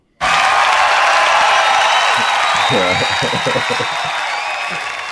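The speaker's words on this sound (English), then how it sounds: "I want to give a big round of applause, please, as you help me welcome to the show" Studio audience bursting into loud sustained applause with cheers and whoops to welcome a guest onto a football podcast, starting abruptly and slowly tapering, with voices talking over it partway through.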